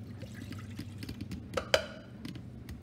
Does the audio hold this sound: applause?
no